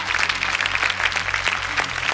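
A gala show audience breaks into dense, loud applause, many hands clapping steadily and continuously for a couple of seconds.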